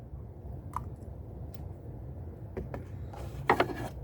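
A socket extension clicks onto a ratchet while work goes on at a Chevy Blazer 4.3 Vortec engine, heard as a few faint, sharp metallic clicks over a low background rumble, with no talking.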